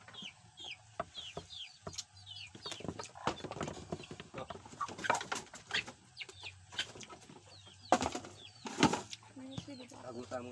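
Chickens cluck repeatedly nearby amid rustling and scattered bumps, with some louder squawks toward the end.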